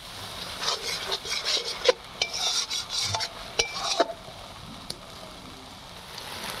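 Lote fish jhuri is stirred in a pan, with repeated scraping strokes and light metallic clinks of a spatula over a faint sizzle, close and quiet, easing off toward the end.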